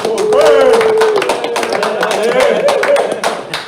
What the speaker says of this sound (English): A round of applause, please, for Corey Major.